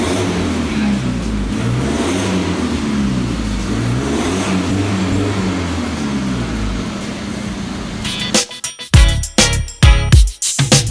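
Ford Ranger Raptor with a muffler delete and 2.5-inch piping, engine droning and rising under steady revving for several seconds, then a choppy burst of sharp throttle blips, loud and close.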